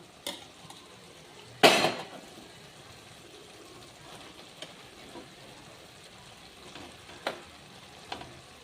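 Rice goes into a pan of frying tomato masala tempering, with a sharp clatter as it is tipped in, then a low sizzle and scattered scraping and knocking of a spoon as it is stirred.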